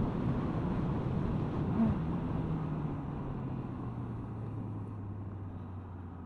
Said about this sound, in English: even at 60 miles an hour, or 55, 60, it's still quite windy